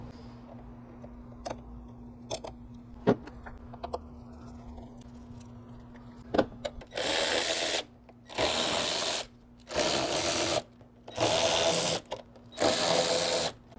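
A ratchet fitted with an 8mm hex socket loosens screws on a Honda drivetrain mount, first with a few sparse clicks and then five sustained bursts of rapid ratcheting, close and loud, separated by short pauses.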